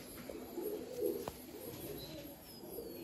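A pigeon at a roadside pigeon sale near a railway station gives a soft, low cooing call, faint and somewhat distant over quiet background noise, with no one talking.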